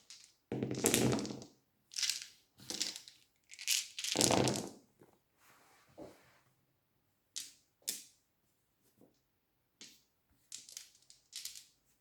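A handful of about twenty dice rattle and clatter across a Warhammer Fantasy Battles tabletop in several separate bursts, with sharp plastic clicks and short pauses between throws. No one speaks.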